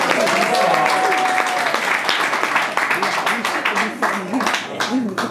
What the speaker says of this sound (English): I don't even gotta say give her another round of applause because y'all know we keep clapping